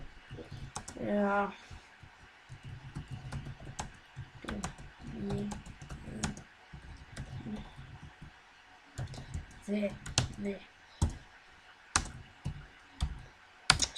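Someone types a message on a computer keyboard, clicking in irregular close bursts with pauses between, while a person talks intermittently over the keys.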